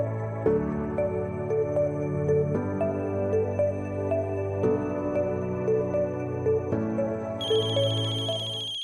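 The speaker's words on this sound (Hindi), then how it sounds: "मेरा फोन आ रहा है, मुझे उठाना होगा।" A melodic phone ringtone plays loudly and repeats its phrase several times, ending on a higher, brighter tone.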